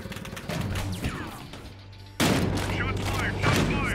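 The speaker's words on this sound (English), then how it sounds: "Shots fired!" Gunfire from the Battlefield Hardline video game rattles in repeated bursts, with a louder volley partway through, mixed with shouting voices and chaotic crashes.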